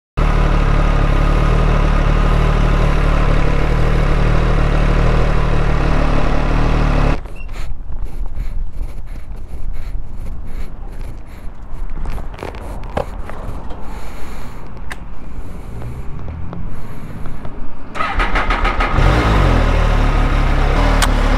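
A used motorcycle with an engine problem runs with a steady, loud rumble, then turns rough and uneven with scattered clicks and knocks after a few seconds before settling back into a dense drone.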